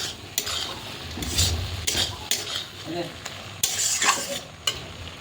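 Fish roe and egg curry being sautéed in a pan, with a spatula scraping and stirring in repeated strokes over a steady, close sizzle of frying.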